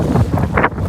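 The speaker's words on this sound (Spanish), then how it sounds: "Mal viento dentro del mar" Strong wind at sea on a rainy beach, buffeting the microphone in a brief, loud rushing gust.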